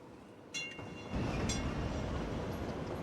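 A train runs along a rail line in the city-building game Cities: Skylines, a steady rumbling rolling sound that swells after a moment, with a couple of sharp metallic clanks early on.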